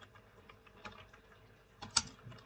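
Computer keyboard typing, a quiet, close run of light irregular keystrokes with one louder tap near the end, heard alone without talk.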